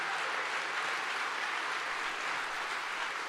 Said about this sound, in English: that's premature applause